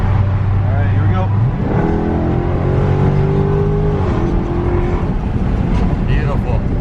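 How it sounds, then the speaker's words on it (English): Dodge Charger Scat Pack with a muffler delete and automatic transmission launched at full throttle: a loud, raw engine roar that holds a low drone, then climbs steadily in pitch as the car accelerates. "I'll throw it in drive, automatic, and then I'll just floor it so you can hear that sound"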